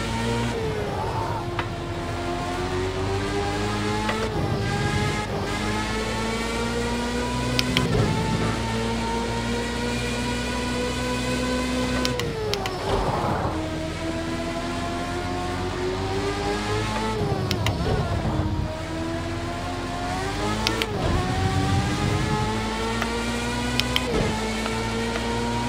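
Formula car engine at full throttle in the Project Cars 2 racing game, a loud sustained whine that rises through the gears with brief drops at each shift, running steadily and close throughout.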